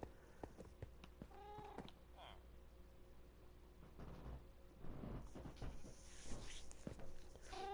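A cat in Minecraft meows a few times, fairly quiet and close, mixed with soft footstep-like pattering over a steady game background hum.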